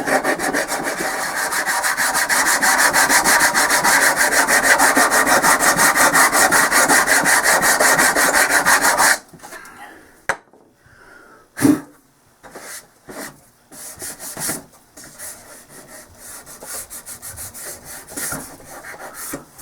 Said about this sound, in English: All I gotta do is sand the rest of these smooth and then tidy that up a bit.